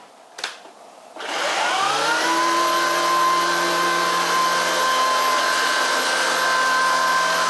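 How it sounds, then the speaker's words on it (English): Shark Vertex cordless stick vacuum switched on and picking up popcorn and protein powder from a floor and carpet, a brief click, then a rising whine that settles into a loud, steady, high-pitched suction roar. "so I got this vacuum here"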